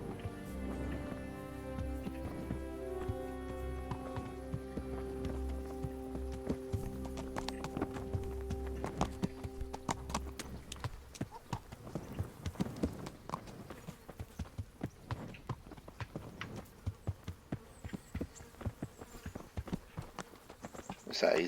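Horse hooves clip-clop in the medieval role-playing game Kingdom Come: Deliverance, starting under a held musical chord, then a steady rhythmic trot of close, sharp hoofbeats carrying on alone.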